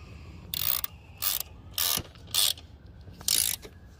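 Five short clicking bursts of a ratchet turning a 16 mm socket on a car air filter housing, close and fairly quiet with brief pauses between strokes.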